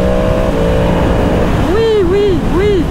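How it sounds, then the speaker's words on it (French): A 2022 Yamaha MT-10 SP motorcycle engine drones steadily while riding, then revs up and down in three rising-and-falling sweeps, loud and continuous under wind noise. "Ok, j'ai entendu le moteur."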